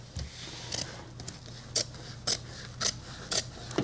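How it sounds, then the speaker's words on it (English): Scissors snip through bag lining fabric beside a zipper, six or seven crisp, quiet cuts spaced about half a second apart, close and alone over a faint hum. "what we're going to do now is cut away the lining a little"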